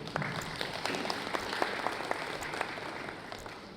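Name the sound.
audience applause for panel discussion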